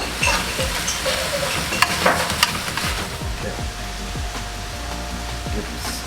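Sausages fry in olive oil in a pan with a loud, steady sizzle that fills the whole stretch, with a few sharper crackles and spits along the way and no voices.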